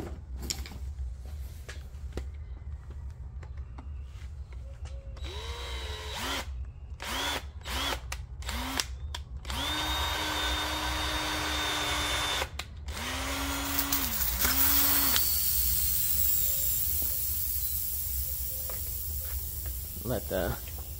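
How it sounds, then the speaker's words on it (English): Drill bit boring through the reservoir cap of a Fox shock absorber before the nitrogen is released: several loud, whining bursts of drilling in short stops and starts, with a voice talking between them. "So once you drill through there, it's a done deal with the caps."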